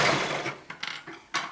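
A sewing machine stitches gathered cap sleeves in short bursts, its whirring motor and clicking needle starting and stopping at close range.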